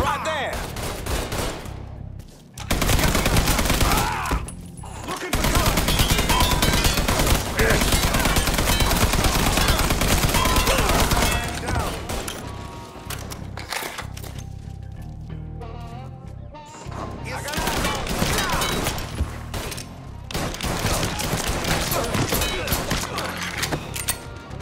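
Sustained bursts of gunfire in the crime video game Mafia III, loud and dense for most of the stretch with brief lulls between volleys, along with shouted game dialogue.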